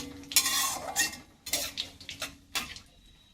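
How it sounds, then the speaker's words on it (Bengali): Whole cinnamon stick, cloves and cumin seeds stirred in a hot pan, with several bursts of loud scraping and clattering against the metal, a soft sizzle beneath and pauses between strokes. "এবার এটাকে ভালো করে একটু নাড়াচাড়া করে ভেজে নেব।"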